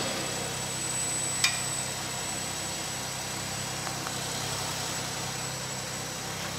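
A 3.4 V6 engine in an Oldsmobile Alero idles steadily after a starter replacement, a low continuous hum with a brief click near the start and no talk.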